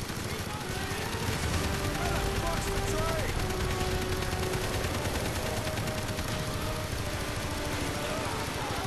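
Gunfire in Call of Duty: Black Ops on the Wii, a dense, continuous stream of rapid automatic shots and battle noise that fills the scene with no letup, with a voice talking over it.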